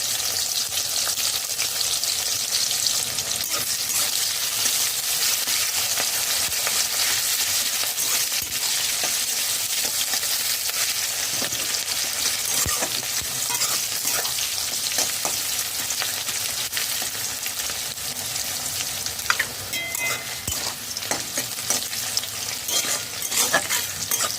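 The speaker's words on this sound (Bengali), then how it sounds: "হাই ফ্লেমে পেঁয়াজ দু মিনিট ভেজে নিয়েছি" Chopped onions, green chilies, garlic and ginger with cumin fry on high flame, a loud, dense and unbroken hiss of sizzling oil with faint occasional stirring clicks, close up and with no voices.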